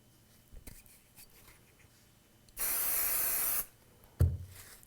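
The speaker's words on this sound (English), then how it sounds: "So I get my spray glue out." A single steady hiss of spray glue from an aerosol can lasting about a second, close by in a quiet room, followed by a soft thump.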